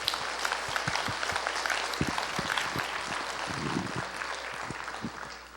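A congregation in a church Easter Sunday service claps steadily, a dense crackle of applause that holds for several seconds and fades slightly at the end.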